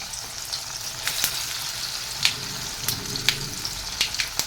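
Coriander and roasted-peanut vadis frying in very hot oil give a steady close sizzle with scattered sharp pops and crackles, no one speaking.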